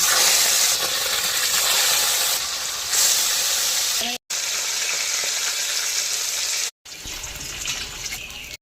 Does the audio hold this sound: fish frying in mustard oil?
yes